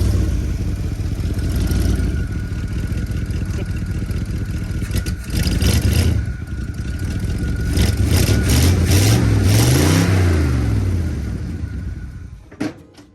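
A 1972 Chevrolet 402 big-block V8 runs with a loud, rough idle, then revs up in several rising and falling pulls before cutting off near the end.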